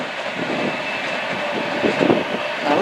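A suburban train bound for Shepperton rushes past Wimbledon footbridge, loud and close, with a continuous roar and rattling wheels throughout.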